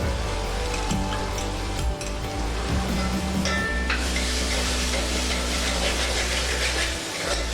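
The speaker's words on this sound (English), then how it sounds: "I will mix it well" Ground masala being stirred into prawn rice in a pot, a steady sizzle and hiss with light scraping and occasional clinks of the spoon throughout, close and continuous with no talk.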